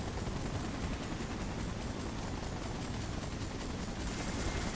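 Police helicopter gunfire in the Spiderman 3 video game, a dense continuous roar of rotor noise and rapid machine-gun bursts filling the whole stretch loudly.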